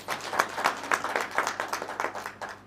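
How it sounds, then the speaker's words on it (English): Graduation ceremony audience at Multimedia University of Kenya applauds, a short burst of moderately faint, steady clapping from a crowd. "Please give him a round of applause"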